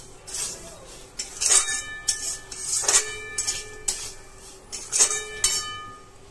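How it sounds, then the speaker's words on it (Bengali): A spoon scrapes and clinks against a pan as semolina with raisins and cherries is fried on low heat, with a series of irregular metallic knocks and scrapes over a faint background, close by and without talk. "এবার এটাকে হালকা আঁচে ভাজা হচ্ছে।"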